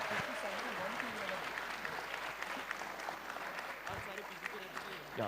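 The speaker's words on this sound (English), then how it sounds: "a huge round of applause for all the finalist teams here" Applause rises from the audience for the finalist teams at the close of a quiz event, continuous clapping from a crowd that stays fairly soft and even, with voices talking over it throughout.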